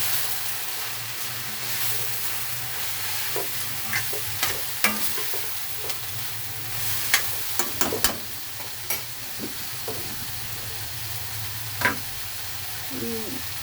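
Fenugreek seed gravy in the Hubballi style sizzles in a pan while a spoon stirs it, a constant frying hiss broken by repeated sharp scrapes and clinks at uneven intervals.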